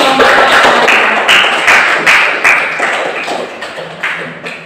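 Students in a classroom clap together, a short burst of loud, close, rhythmic handclaps in uneven beats that gradually fade over a few seconds.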